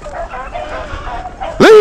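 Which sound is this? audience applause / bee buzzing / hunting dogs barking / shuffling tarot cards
hunting dogs barking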